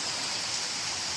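Rain pours over a flooded market in a steady, dense hiss. It is close and loud, with no break across the short stretch.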